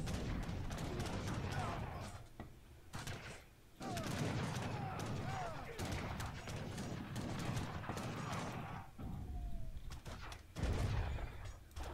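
Real-time strategy battle with a mortar shelling an enemy base: repeated booming blasts and dense battle clatter that runs nearly without a break, with mid-loudness thuds under a busy mix of game sounds.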